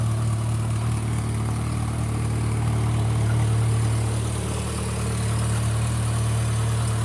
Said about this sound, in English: Actually, that doesn't sound too bad, that exhaust.